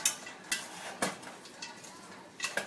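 A spoon stirring chopped onions in a pot, sharp metallic clinks against the pot at irregular intervals over a quiet background, close and clear, no talking.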